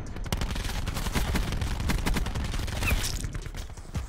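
Dense bursts of automatic gunfire from the Black Ops video game, rapid sharp cracks in quick succession, loud and close with little pause between shots.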